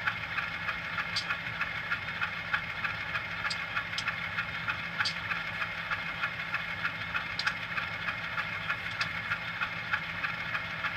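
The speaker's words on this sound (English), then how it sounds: "F12 is the slow spitter valve." Rivarossi ACL U25C model locomotive with its slow spitter valve, a quiet steady mechanical hum and idle drone broken by short, sharp hissing spits at irregular intervals, no talking.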